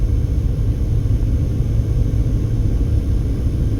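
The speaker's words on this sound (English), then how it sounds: "the motor getting a little loud there as we're going up into these foothills" Car engine working harder while climbing into foothills on a road near Las Vegas, a steady low rumbling drone heard from inside the vehicle, continuous and fairly loud.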